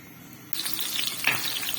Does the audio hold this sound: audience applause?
no